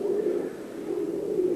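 Pigeons coo loud and close with a steady, continuous, low throaty warble that fills the whole short stretch, with no talk.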